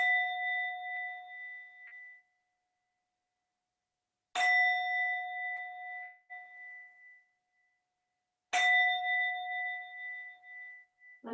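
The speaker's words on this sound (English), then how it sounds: "You hear the sound of the singing bowl." Singing bowl struck three times at a yoga session, each strike a clear metallic ring with a bright attack and long, humming sustain that fades slowly before the next, in quiet surroundings.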